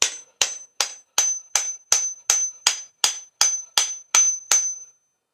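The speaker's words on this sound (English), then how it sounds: "I'll just get the hammer and drive that on again." Thirteen sharp, evenly spaced hammer blows drive a tack hammer head onto its sanded wooden handle, each strike ringing briefly with a metallic ping, close and loud with no talking.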